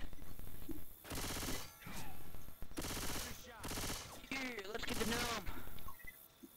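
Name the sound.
gunfire in Left 4 Dead 2 video game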